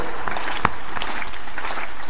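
Steady applause from a gathered audience at a Hindi religious discourse, a continuous wash of hand claps across the whole stretch, with one sharper clap standing out near the start.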